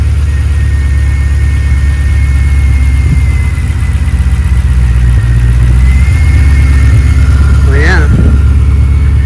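A truck engine idles smoothly and quietly in a garage, a low steady rumble holding even throughout, with a brief higher mechanical sound near the end.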